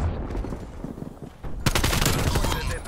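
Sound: automated sentry turret gunfire in Call of Duty Black Ops Cold War video game

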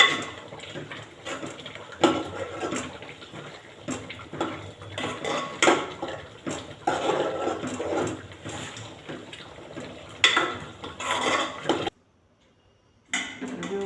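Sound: stirring red chili and coriander-cumin powder into spinach muthiya mix

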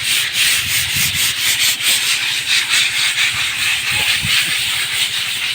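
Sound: scrubbing a school wall to remove dirt

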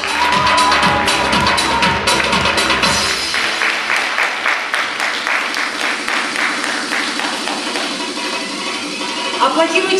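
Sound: audience applause at a bellydance contest

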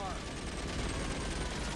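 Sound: machine gun fire in video game LA Noire

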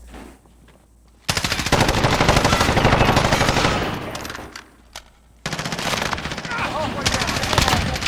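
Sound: gunfire in a video game

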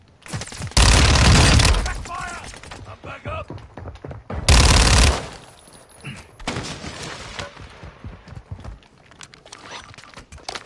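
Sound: gunfire in a video game

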